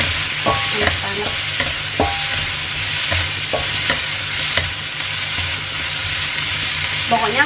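Beef stir-fried in a pan for sambal goreng with oyster sauce, a loud continuous sizzle with sharp clanks of a utensil scraping and stirring throughout.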